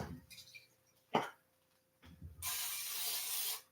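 Cooking spray from an aerosol can hisses steadily for about a second near a stovetop flame in a home kitchen, following a few soft knocks and a brief cough.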